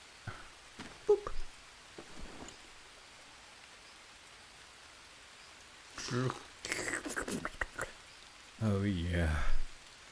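Rain falls in the jungle survival video game Green Hell as a soft, steady hiss in the background, while a player talks over it in short bursts.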